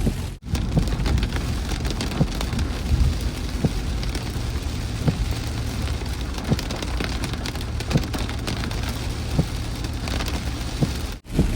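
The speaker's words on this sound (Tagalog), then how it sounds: "ang lakas na ng ulan, pakita ko" Heavy rain pours steadily over a neighborhood in Las Piñas, a dense, continuous hiss of drops on surfaces, loud and close throughout with no voices.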